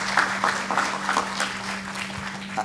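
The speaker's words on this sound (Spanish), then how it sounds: "Un aplauso, por favor, para el expositor." Audience at an intellectual property law lecture applauding the speaker, a steady patter of many hands clapping at moderate distance, fairly soft and continuous for the whole stretch.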